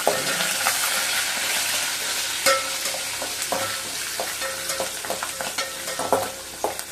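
Green chillies sizzle steadily in hot oil for Chennai-style vadakari while a spoon scrapes and clanks against the pan in irregular stirring strokes, close and prominent with no talking.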